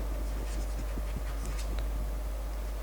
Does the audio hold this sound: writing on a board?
yes